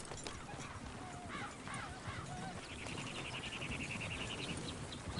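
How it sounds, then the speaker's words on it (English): Horse hooves clip-clop in an outdoor PS4 video game scene, a rhythmic trotting beat mixed with chirping birds and ambient game sound. "Is one of you gonna get that fella's horse?"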